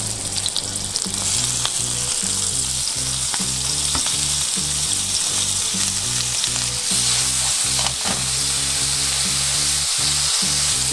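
Food sizzles steadily in hot oil in a frying pan, a loud continuous crackle broken by regular sharp scraping and tapping strokes, with no talking.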